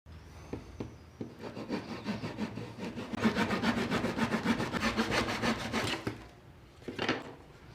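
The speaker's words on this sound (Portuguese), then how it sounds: "podemos cortar agora aqui com o serrote e aqui" A hand saw cuts through wood for a rustic wooden shelf bracket, with rhythmic back-and-forth rasping strokes that build into a fast, steady run and then stop, followed by a short final burst.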